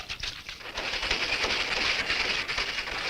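A cartoon train from Underdog rumbles steadily at close range, a continuous hissing, rattling roll with faint clickety-clack that swells and holds for the whole stretch with no voices.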